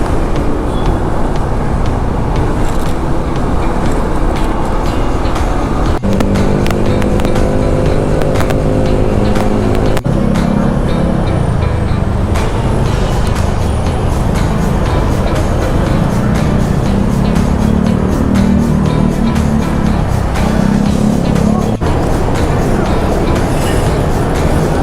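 Busy road traffic heard from inside a vehicle, a loud continuous rumble of engines and passing cars and motorcycles with occasional shifts in tone, no one talking.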